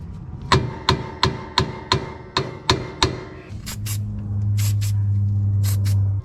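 A hammer strikes the rear axle of a 2022 Toyota Landcruiser V8 VDJ79 eight times in a steady, ringing metallic rhythm, followed by a loud sustained hiss and a few sharp clanks.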